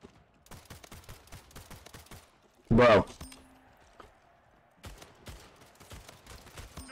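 Gunfire crackles in bursts during a ranked online shooter match, with rapid distant shots scattered throughout and one loud close burst near the middle. Someone talks over the gameplay.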